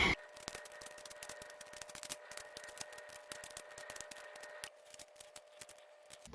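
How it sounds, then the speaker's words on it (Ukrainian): Apples are peeled with a knife for a strudel: a dense run of quick, light scraping clicks and snips, close and fairly quiet, with no talk. "І так, далі нам треба почистити ті яблучка, тому починаємо."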